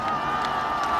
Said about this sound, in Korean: 일단 박수하겠습니다.